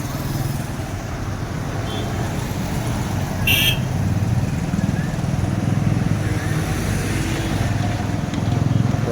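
Road traffic at the Ramavarappadu ring junction in Vijayawada, a continuous roar of cars and motorcycles passing nearby, with a brief horn toot partway through and a faint voice in the background.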